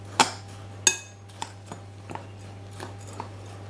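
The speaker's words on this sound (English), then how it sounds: "So we're just stirring this to combine them, to try and mix them together fairly evenly." A spoon knocking and scraping in a bowl of lumpy sugar mixture: two sharp clinks, then lighter irregular taps over a steady low hum, with no talk.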